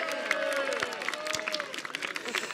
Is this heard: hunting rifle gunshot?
no